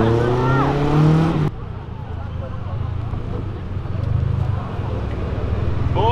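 Car engine at a street drift meet, a loud nearby engine drone and rumble that continues steadily after brief talk and cheering.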